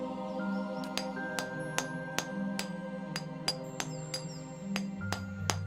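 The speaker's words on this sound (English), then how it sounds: "Chiseling away at the boulder proves a slow and weary endeavour" Chiseling at a boulder in Pillars of Eternity, a dozen sharp metallic ringing strikes at an even, steady rhythm over a sustained tonal music bed.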